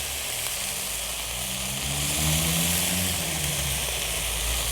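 Ramen noodles from two packages sizzle and fry in a hot cast iron pan, a continuous crackling hiss with a low rumbling undertone, heard close and fairly loud without talk.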